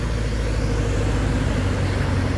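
A truck's turbocharged engine grinds steadily uphill, a loud, continuous low rumble and drone with no break.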